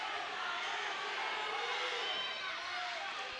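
A crowd at a high school wrestling match, Kewaskum against Campbellsport, keeps up a steady wash of cheering and shouting throughout, moderately loud and continuous without clear peaks.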